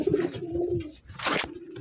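A grizzle pigeon coos in soft, low, throaty phrases, close by, followed by a brief rustle or flutter, with no one speaking.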